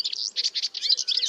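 A cartoon character imitates a sparrow, making rapid high chirps in quick repeated bursts, loud and clear with no other sound.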